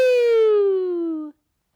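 A single falling wail, loud and close, sliding down in pitch for about a second before cutting off abruptly, likely a voice imitating a siren.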